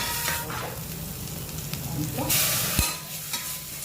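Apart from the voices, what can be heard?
frying and stirring carrot soup ingredients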